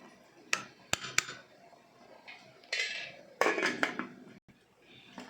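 A spoon clinks and scrapes against a pot while stirring chicken pulao with rice and spices, with several sharp metallic taps followed by bursts of scraping and softer clattering.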